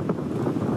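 Wind blows over a cemetery at the edge of the tundra near Vorkuta, a steady low rumbling gust buffeting the microphone throughout, with no other sounds.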